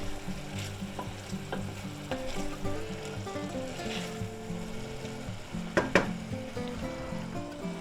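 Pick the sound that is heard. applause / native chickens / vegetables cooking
vegetables cooking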